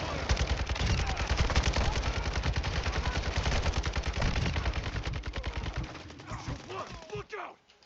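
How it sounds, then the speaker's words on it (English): Rapid automatic gunfire rattles continuously in the Warzone 2.0 DMZ video game, a dense burst of shots lasting several seconds before trailing off, with faint game voices underneath. "Taking enemy fire!"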